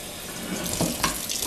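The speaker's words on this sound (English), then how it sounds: "I'm going to let the disposal fill up with a little warm water." Warm water from a kitchen faucet runs steadily into a sink garbage disposal, a close, continuous splashing hiss that thickens slightly as the basin fills, with no voices.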